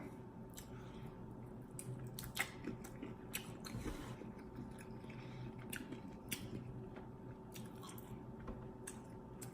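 Someone bites into and chews a shrimp served with creamy grits and bacon, close-up wet chewing and squishy bites in an irregular rhythm, with no talking.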